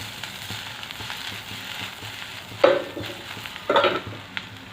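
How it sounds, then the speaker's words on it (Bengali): Bread pieces tossed in a hot pan on a high gas flame for bread upma, a steady sizzle of frying under stirring, with two louder scraping tosses partway through. "এবার পাউরুটিগুলো দিয়ে দেব এটাকে আমি এভাবে ধরে এরকম করে টস করবো"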